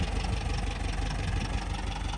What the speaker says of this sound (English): Just sitting there idling, fired right up, even really cold.